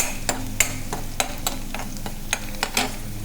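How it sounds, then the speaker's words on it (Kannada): Crushed garlic and mustard seeds fry in a pan, giving a steady sizzle. Sharp scraping taps from stirring cut through it about every half second. "ಕುಟ್ಟಿರೋದು ಬೆಳ್ಳುಳ್ಳಿ ಫ್ರೈ ಆಗ್ತಾ ಇದೆ"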